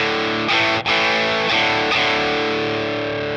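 A heavily distorted electric guitar runs through a JOYO King of Kings pedal with switch 2 engaged, giving loud, compressed, sustained high-gain chords with a brief break early on.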